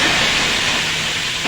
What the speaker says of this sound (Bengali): তেলটা গরম হয়ে গেছে, চাউমিনগুলো দিয়ে দেবো।